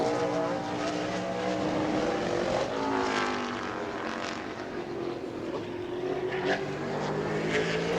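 Super late model race car roaring around New Smyrna Speedway on a qualifying lap, a loud steady engine drone with pitch rising and falling as it passes, continuous throughout with no talk.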